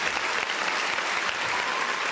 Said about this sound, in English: I'm going to give you a round of applause for this.